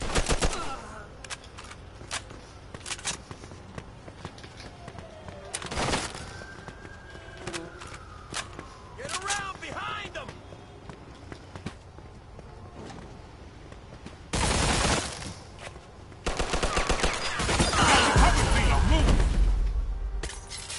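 Video game gunfire in Mafia 2: scattered shots and bursts of automatic fire, with a long, loud barrage near the end, mixed with game voices and other in-game noise.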